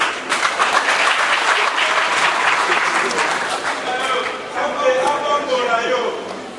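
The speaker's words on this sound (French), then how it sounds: "Applaudissons tous pour les pertinentes interventions que nous venons de suivre." Sustained applause from a crowd, dense steady clapping that holds for several seconds and thins slightly toward the end.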